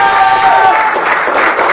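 An audience at an Indian Army retirement felicitation ceremony applauds loudly, a dense, continuous wash of clapping with crowd noise and a brief tonal sound at the start.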